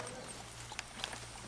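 Horse hooves clip-clop softly in Red Dead Redemption 2, a couple of faint, close steps over quiet ambient background.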